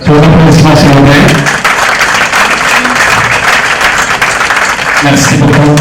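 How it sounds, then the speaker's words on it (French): Audience applause at a political gathering, loud close clapping from a crowd, with a speaker's voice at the start and again near the end. "Pour l'applaudissement,"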